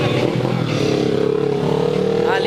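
A Yamaha RD 350 two-stroke motorcycle runs nearby at a wheelie stunt event in Mogi Guaçu, its engine a continuous buzzing drone with a brief rising rev near the end, under crowd noise.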